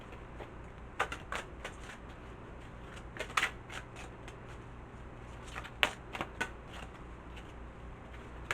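Tarot cards are shuffled close up in quick, papery riffling bursts with small irregular clicks, quiet overall and steady over a faint background hum.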